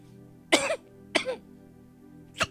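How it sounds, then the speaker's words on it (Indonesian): Three separate coughs, close and fairly loud, with pauses between them over a faint steady background hum. "Saya iseng-iseng batuk."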